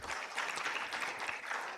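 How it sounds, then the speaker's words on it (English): Brief, fairly faint applause from an audience after a scientific session presentation, a steady patter of many hands clapping. "Shall we all give them a round of applause?"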